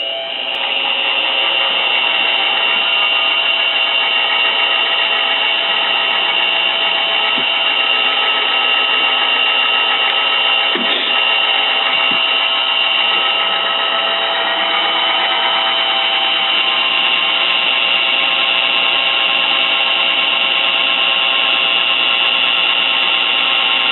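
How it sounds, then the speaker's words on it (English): A high-quality drill runs slowly and steadily, boring a hole that stops short of the bottom, producing a continuous close whine with a stable pitch and occasional slight grinding changes. "I start out with a real high-quality drill, and I don't drill real fast."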